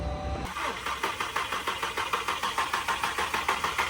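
A dead Skoda VRS being cranked with the ignition on: after a short click the starter turns over in an even, rapid rhythm, loud and close, with no catch and no talking.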